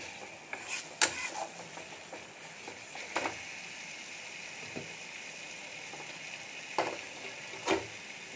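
Chopped capsicum frying in a pan of cooked-down spice masala makes a steady close sizzle broken by sharp clinks and scrapes of stirring; no voices.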